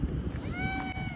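A cat gives a single clear, rising then falling meow, close by, over a steady outdoor rumble.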